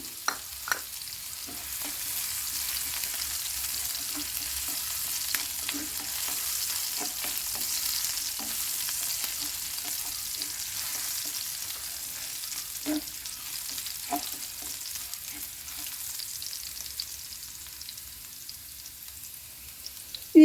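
Chopped ginger, garlic and green chilli fry in hot oil with a steady soft sizzle, broken by scraping stirs and occasional sharp pops, close by and without speech.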